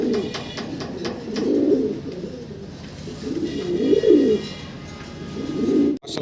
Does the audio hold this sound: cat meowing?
no